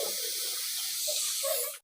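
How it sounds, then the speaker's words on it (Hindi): A pressure cooker whistle lets off a steady, loud hiss of steam while beef kabab ingredients cook, with no talk, cutting off abruptly at the end. "प्रेशर की सीटी बजने लग गई है।"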